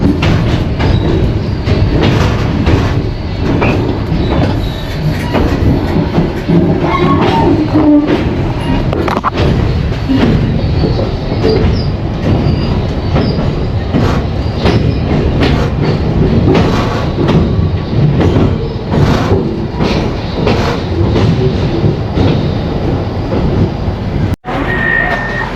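Interior of a passenger train, with a bike parked aboard, rumbling loudly and steadily throughout with rhythmic clickety-clack wheel beats and car rattles, no voices.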